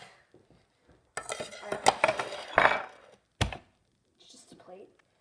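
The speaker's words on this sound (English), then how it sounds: "I'm going to take a plate." Ceramic plate lifted and handled in a home kitchen while making a quick snack, giving a few close clinks and knocks against dishes and cutlery, with quiet gaps between.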